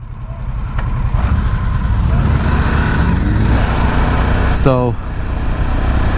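A Harley-Davidson Sportster S motorcycle engine rumbles steadily nearby throughout, low and continuous, while someone talks briefly over it.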